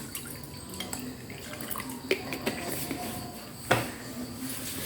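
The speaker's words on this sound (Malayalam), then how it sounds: "നമുക്കതിലേക്ക് കുറച്ച് തണുത്ത വെള്ളം കൂടി ഒഴിച്ചു കൊടുക്കാം." Cold water is poured into hibiscus juice in a glass, a soft trickle and splash with a few sharper drips and clinks, close and fairly quiet, with no speech.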